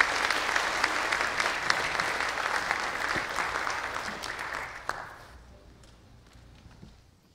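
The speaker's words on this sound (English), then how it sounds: "Give them one more round of applause as they exit today." A church congregation applauds steadily as people leave the service, a broad sustained clapping that fades out over the last couple of seconds into near quiet.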